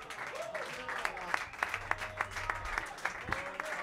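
Concert audience applauding at the AC Recoletos Jazz show, a steady wash of clapping with sharper individual claps standing out, mixed under a voice speaking over it.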